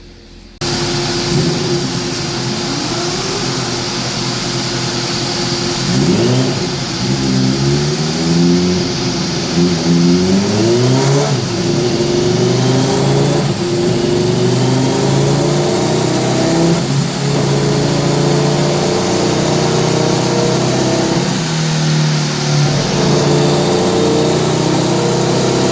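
A Kawasaki H2 motorcycle on a dyno at a dyno day event roars through repeated revs, its engine pitch climbing and falling in several loud sweeps over a sustained mechanical drone.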